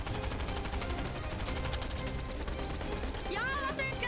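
Rapid automatic gunfire from the Fortnite Battle Royale video game rattles continuously in dense bursts, with game sounds mixed in near the end.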